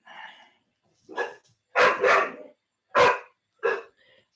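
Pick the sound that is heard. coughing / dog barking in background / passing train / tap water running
dog barking in background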